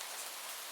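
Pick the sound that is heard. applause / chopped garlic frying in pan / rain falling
rain falling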